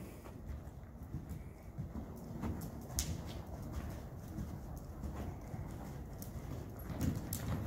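Horse moving at a medium canter in a riding arena, rhythmic hoofbeats at moderate distance with bird calls and cooing pigeons in the background.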